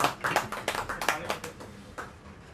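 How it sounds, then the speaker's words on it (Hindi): Scattered audience clapping at an association election gathering, a handful of distinct sharp claps in an uneven rhythm, fairly close and fading out toward the end with faint murmuring behind. "एक स्पेशल धन्यवाद करते हुए ताली बजा देते हैं।"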